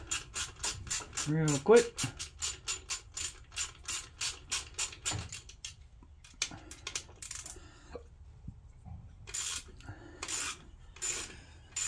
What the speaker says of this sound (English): we're gonna get an Allen head and we gotta bust off these four screws